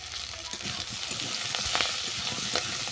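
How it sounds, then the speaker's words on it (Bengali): Ghime greens with salt and turmeric frying in a pan, a continuous close sizzle broken by scraping stirs, with soft voices briefly heard underneath. "আমি আরও কিছুক্ষণ এটাকে ভেজে নেব"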